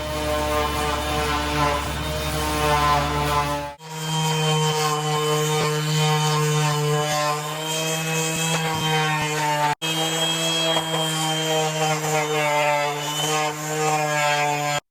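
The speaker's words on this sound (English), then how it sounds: "But basically sanding is next" A power sander works a wooden stump side table, a loud steady whirring drone with a strong tonal hum that cuts off briefly twice and restarts.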